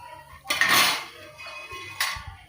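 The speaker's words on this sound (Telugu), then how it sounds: "అలా డీప్ ఫ్రై అయిన తర్వాత ప్యాన్లో నుంచి తీసుకొని ప్లేట్లో వేస్తున్నాను" Deep-fried chicken nuggets lifted out of a pan onto a plate, giving a loud metallic scrape and clatter of utensil on cookware, then a second shorter clink, close by and without speech.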